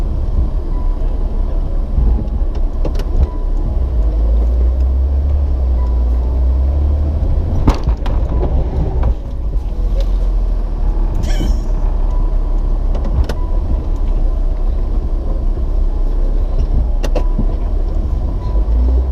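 An off-road vehicle pushes faster along a wooded New River trail, its engine a steady loud rumble throughout, with occasional sharp knocks and creaks from the body over the terrain.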